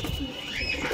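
Young pigeons settled in a loft in Nabadwip coo faintly amid a busy background, low murmurs scattered through the short stretch.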